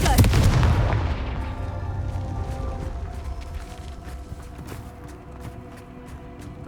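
A Confringo spell blast in Hogwarts Legacy goes off with a loud, booming burst up front, then rumbles and crackles as debris-like impacts and rattles trail away over several seconds.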